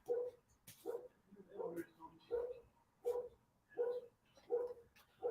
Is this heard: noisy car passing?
no